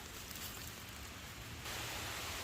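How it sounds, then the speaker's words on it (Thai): Rain falling outdoors around a rural Thai home, a steady broadband hiss that grows denser and louder partway through, with no voices. "ฝนตก เอาจริงแล้วจ้ะพี่น้อง"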